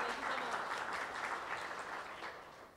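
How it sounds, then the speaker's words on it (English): Steady applause from a book-event audience at a National Book Foundation presentation, a dense, even patter of many hands sustained at moderate level for the whole stretch, fading near the end. "Please give Jessa a round of applause."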